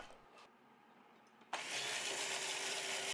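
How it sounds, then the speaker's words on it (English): A kitchen blender blending an olive oil mixture starts up abruptly after a quiet pause, then whirs with a steady, loud, harsh motor roar until it cuts off. "now we can add the olive oil into the blender and definitely not spill some of it while it's"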